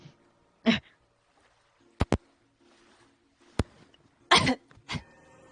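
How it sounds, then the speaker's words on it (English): Several separate coughs and throat-clearing bursts, some short and sharp, others rougher, spaced irregularly in a quiet room. "But you hear her coughing."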